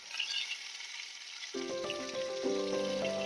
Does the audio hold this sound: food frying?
yes